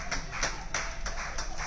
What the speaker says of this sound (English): There's a round of applause going around the stadium for number 11 Reece Oates